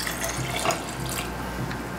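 Whiskey poured into a mason jar, a close, continuous splashing trickle of liquid lasting a couple of seconds, ending with a brief clink or knock.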